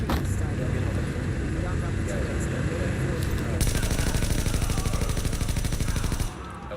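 Gunfire in the video game The Division rattles as sustained rapid bursts over a rumbling game soundscape, loud and dense through most of the stretch before stopping abruptly.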